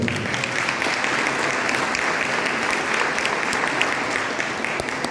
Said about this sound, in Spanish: Con un fuerte aplauso al padre Luis Arroyo